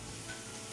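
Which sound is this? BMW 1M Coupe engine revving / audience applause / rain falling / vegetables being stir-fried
vegetables being stir-fried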